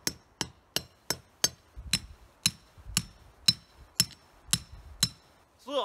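Big rebar stakes hammered into icy sandy ground at a camp, eleven sharp metallic strikes at a steady rhythm, close and loud, each ringing briefly before the next.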